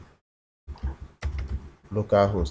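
Clicky keystrokes from typing on a computer keyboard while setting up a project in Visual Studio Code, a short burst of taps near the mic after a brief silence, mixed with a speaking voice.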